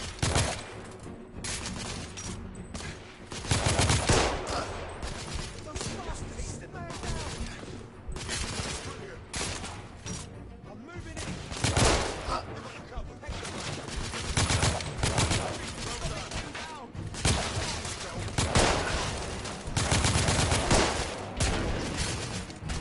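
Heavy gunfire fills a PS4 shooter game, with repeated bursts of automatic fire and dense fusillades rising and falling across the whole stretch, while game voices call out under the shooting.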